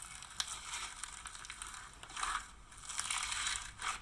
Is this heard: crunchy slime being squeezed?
yes